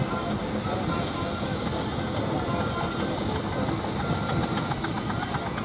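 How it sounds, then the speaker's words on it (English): A big Marshall agricultural steam traction engine runs at the South Cerney steam rally, giving a continuous loud hiss and broadband rumble with faint rhythmic clanking, heard close and steady throughout. "Nice big Marshall agricultural here."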